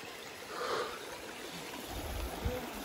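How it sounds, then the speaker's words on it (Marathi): A small forest stream trickles steadily on the Kalsubai trek, a soft continuous watery rush with a brief louder splash near the end, heard alone at moderate distance. "पाण्याचा आवाज काय सुंदर,"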